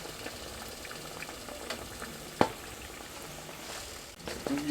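Blueberry sausage pancake corn dogs frying in hot oil, a steady bubbling sizzle throughout with a brief sharp splash as one is dropped in, no talking.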